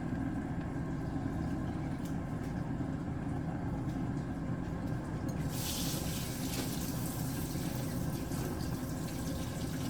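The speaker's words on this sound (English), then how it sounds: "So when I'm washing my dishes, I like to have hot steamy water" Hot tap water runs steadily into a kitchen sink filled for washing dishes, a constant close hiss and splash with a brighter, stronger gush partway through.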